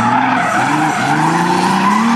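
A BMW E30 turbo does a burnout at a Kalajoki car meet in Finland, its tires squealing loudly and continuously over the revving engine, close and sustained throughout.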